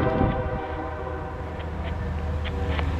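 A Norfolk Southern northbound mixed freight train passes in Marion, Ohio, with a loud, steady rumble and sustained horn tones, heard close and alone.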